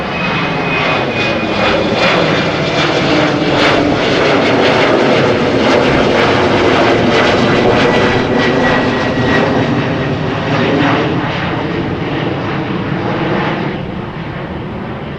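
A 190 jet approaches at Amsterdam Schiphol, a loud close engine roar that builds and holds through the pass, then eases slightly toward the end.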